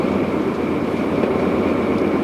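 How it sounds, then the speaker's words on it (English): A train powered by 24 litres of turbocharged diesel running at 125 miles an hour, a loud, steady, roaring drone with no pauses or voices. "The noise of 24 litres of turbocharged diesel at 125 miles an hour"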